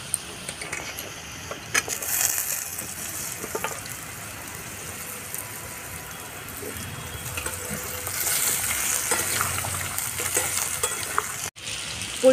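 Vegetable stalks fry with browned potatoes and panch phoron in a pan, a continuous moderate sizzle with occasional stirring clicks and a brief break near the end.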